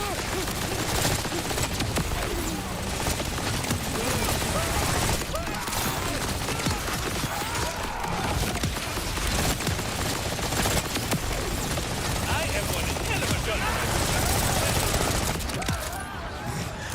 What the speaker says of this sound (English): I was shooting over here, and the bullets were curving and killing the guy over there